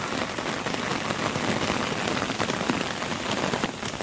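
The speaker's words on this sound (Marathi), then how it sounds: "बारीक बारीक पाऊस चालू हाच" Light monsoon rain in Konkan patters evenly and continuously on surfaces, a soft, dense hiss with no voices.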